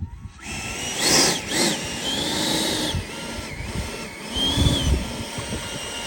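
Freewing MiG-29 RC model jet flying in to land, its ducted-fan whine rising and sweeping in pitch as it passes overhead, with wind rumble and bumps, no talk.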